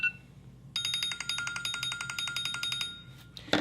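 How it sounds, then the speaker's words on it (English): An iPhone 14 Plus plays a bright, repeating electronic ringtone melody of rapid chiming notes, clear and close, running steadily for about two seconds before cutting off. "So we chose that ringtone"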